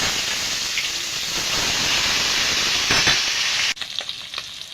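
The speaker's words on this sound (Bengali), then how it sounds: "বাকি মাছগুলো ভেজে নেব।" Bata fish sizzles loudly in hot oil in a kadai, a dense, steady hiss of frying that drops away abruptly near the end, leaving quieter crackles.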